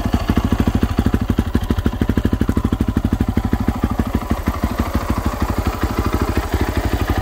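A 2010 Yamaha YZ450F race motorcycle's engine runs close by in a fast, even stream of thumping pulses, holding a steady idle-like rhythm with a faint mechanical clatter.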